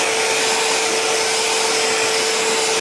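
A high-powered 800 CFM leaf blower running on turbo setting, a loud, steady, close rushing roar of air with a constant whine, no voices over it.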